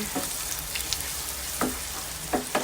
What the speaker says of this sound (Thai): เาพริกเผานะคะใส่ลงไปค่ะ นี่นะคะ ซื้อมาแบบนี้จ้ะ มาผัดนะคะ